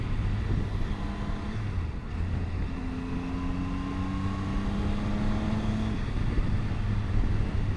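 Triumph Tiger 800 XCA inline three-cylinder motorcycle engine on a ride, a steady droning hum with slowly rising pitch over constant wind rush, moderately loud throughout.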